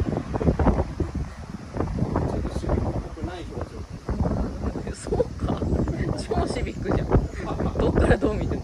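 Strong typhoon wind buffets an outdoor microphone in steady, loud roaring gusts, with people talking and dogs moving around nearby.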